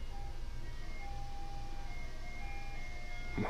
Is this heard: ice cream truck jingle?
yes